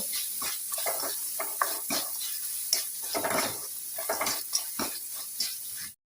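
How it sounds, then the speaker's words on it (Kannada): Chopped onion frying in a pan for masala chitranna, a close crackling sizzle broken by bursts of stirring and spatula scrapes, with no talking. "ಒಂದು ಈರುಳ್ಳಿ ಕಟ್ ಮಾಡಿ ಇಟ್ಕೊಂಡಿದ್ದೆ, ಅದನ್ನು ಕೂಡ ಹಾಕ್ತಾ ಇದ್ದೇನೆ"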